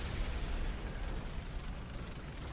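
A bomb explodes in a survival video game, a loud sustained rumbling blast that stays heavy and roaring through the whole moment, with no voices over it.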